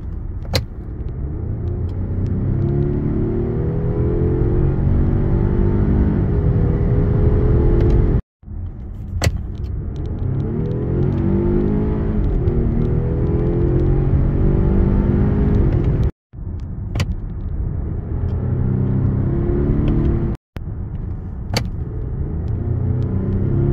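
A Volvo S90 T8 Recharge hybrid with a two-litre, 455-horsepower engine and 8-speed gearbox revs hard in long rising pulls, rumbling loudly as it climbs through gears, with brief cut-offs between bursts of acceleration.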